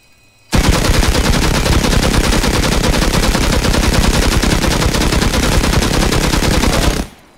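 A silenced minigun in the Rust video game fires one long unbroken burst lasting several seconds, a loud dense rattle of rapid shots that starts and stops abruptly, with no talking.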